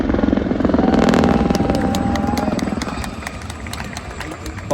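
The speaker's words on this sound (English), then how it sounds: "the Gazelle formation helicopter team." Gazelle helicopters of a formation team fly past at an air show in Ayr, Scotland, their rotors beating in a loud, rapid rhythmic chop that gradually fades as they move away over a crowd.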